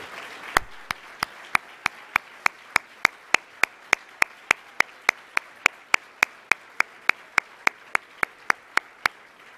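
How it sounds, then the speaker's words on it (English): Single sharp, evenly spaced claps, about three per second, ring out at a gala honoring public servants. They sound like one person clapping close by rather than a crowd. "And let's give them a round of applause for their service to our community."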